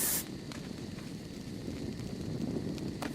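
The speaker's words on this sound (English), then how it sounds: "literally just hose down my shoulder pet and the berry with the bug spray" A steady spraying hiss as bug spray is hosed over a shoulder pet and a berry in the survival game Ark, with a sharp burst at the start and then continuous rushing noise to the end.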